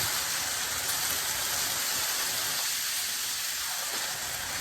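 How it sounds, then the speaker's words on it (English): Pot of meat boiling over on a kitchen stove, a steady loud hiss and sizzle with bubbling underneath, continuous and close, no talk. "Look at my pot. It boiled over. That is my meat."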